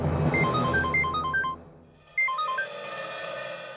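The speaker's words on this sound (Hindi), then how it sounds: "सुहेल को फोन करती हूँ।" A telephone ringtone plays while a call is being placed, a melodic electronic tune heard twice, the second phrase after a short gap, fairly quiet and alone with no talking.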